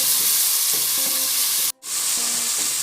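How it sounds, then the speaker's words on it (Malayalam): Onions sauté with salt in a hot pan, giving a loud, steady sizzle with a few stirring scrapes and a momentary break partway through; no voices. "2 സവാള നന്നായി വഴറ്റാം"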